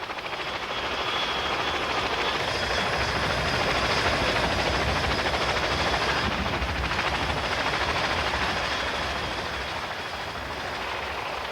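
A Chinook heavy transport helicopter drones steadily with deep rotor thumping and engine roar, loud and continuous throughout.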